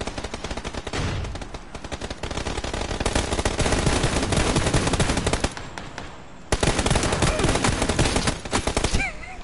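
Gunfire rings out in the battle-royale shooter PUBG, with loud rapid automatic bursts and shotgun blasts that rattle on almost without pause, cut by a brief lull before the shooting resumes.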